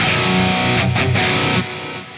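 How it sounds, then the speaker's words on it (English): Heavily distorted electric guitar playing a palm-muted chug riff through a default amp-simulator preset, loud and close, with a brief gap near the middle before the ringing tone tapers off. "let me show you how to get in and dial in the perfect chug sound from scratch"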